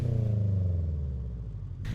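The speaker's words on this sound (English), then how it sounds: "we can blip the throttle, just a little quick, sharp blip, right before shifting." A car engine gets a quick throttle blip before a downshift, a close, deep rising rumble that holds briefly and then settles back down.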